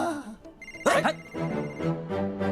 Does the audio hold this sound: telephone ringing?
yes